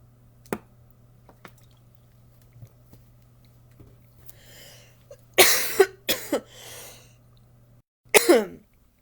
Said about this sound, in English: Sorry, smoker's cough.